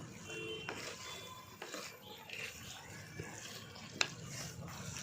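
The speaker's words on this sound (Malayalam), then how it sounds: "അപ്പം നമുക്ക് ഇതൊക്കെ നന്നായി ഇളക്കാം" Chicken curry seasoned with Kashmiri chili powder is stirred in a pot over a traditional wood-fired stove, giving soft scraping and clinking of the utensil against the pot at low level, with one sharper knock.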